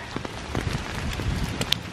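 Rain falling outdoors just after a windstorm with 55 to 60 mph gusts, a steady broadband hiss with scattered drop impacts and one sharp tap, no speech over it.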